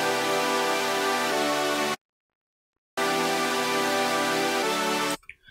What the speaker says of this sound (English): the chord stacks kind of sound like this.